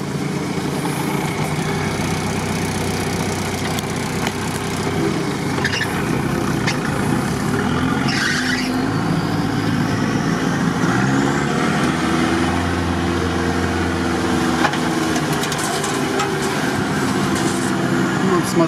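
An off-road SUV engine drones steadily as the vehicle crawls over rough, firm terrain, a continuous low rumble heard from inside the cabin with voices talking over it.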